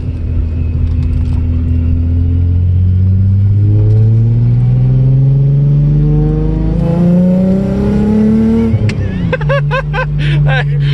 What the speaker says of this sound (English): Get a little inside view of what Supercharged VR6 is all about